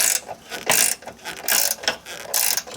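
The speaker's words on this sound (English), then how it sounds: "I've got this double ratcheting combination wrench in order to tighten up the nut on the back as well" A double ratcheting combination wrench tightens the nut on a battery ground cable in a cramped DeLorean engine bay, giving short bursts of rapid pawl clicking in several separate strokes, close and fairly loud, with no talking.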